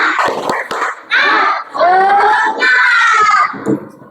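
Indonesian schoolchildren clap through the 'tepuk semangat' routine in a classroom, with a few quick claps at the start followed by loud chanting children's voices.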